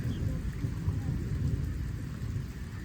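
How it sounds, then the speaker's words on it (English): Low thunder rumbles steadily through an outdoor yard during a storm, with rain around, a deep continuous roll that stays fairly loud across the whole moment with no talking. "Whoops, there's the thunder."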